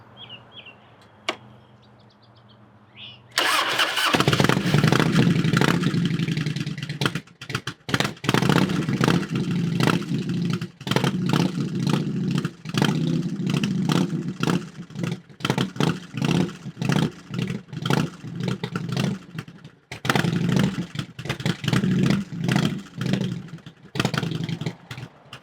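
An old Harley-Davidson motorcycle that had been sitting for years sputters to life and runs roughly, its loud uneven engine rising and falling in repeated revs with choppy, misfiring pulses, close by.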